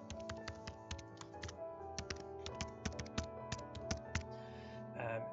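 Rapid typing on a computer keyboard while entering an email address into a registration form, a steady run of close, crisp key clicks with brief pauses.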